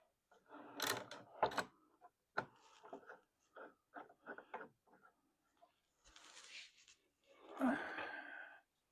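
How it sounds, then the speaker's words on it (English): Clamps being set onto the freshly glued back legs of a Maloof-style wooden rocking chair, a run of close knocks, clicks and short scrapes, some in quick bursts, with quiet gaps between them and a louder rattling burst near the end. "now you'll see as I place the clamps on"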